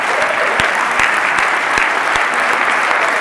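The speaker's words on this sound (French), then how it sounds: "S'il vous plaît, sous les applaudissements." Crowd at a cybersecurity forum applauds the team winning a CTF competition, a loud, even round of clapping with a few sharp distinct claps standing out.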